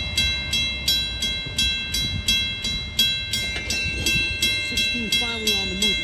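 A Long Island Rail Road train led by locomotive 406 rolls steadily along the rails with a regular rhythmic clatter of wheels over joints, fairly close, with a few faint voices in the background.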